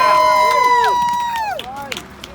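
Rally crowd outdoors cheering for nurses with shouts and whoops, clapping scattered in the mix, fading gradually over a couple of seconds.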